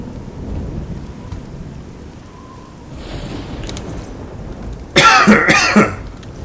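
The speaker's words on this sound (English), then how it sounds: "a little bit of a cough" A short cough during a play session of the fantasy game Elder Scrolls: Oblivion, two quick close bursts near the end after a quiet stretch of low background noise.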